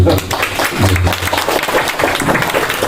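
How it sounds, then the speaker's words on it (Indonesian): Applause from the audience at an NU district branch conference (Konferancab MWCNU) in Madukara, Banjarnegara, after a village head is introduced; steady, dense clapping fills the hall at close range, with a low hum and some voices mixed in. "Tepuk tangan dulu."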